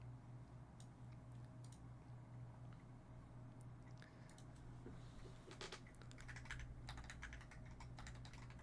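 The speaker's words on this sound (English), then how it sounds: "you can see my beautiful typing skills" Quiet clicking on a computer keyboard comes in scattered bursts of typing over a low steady background hum, the keystrokes growing busier toward the end.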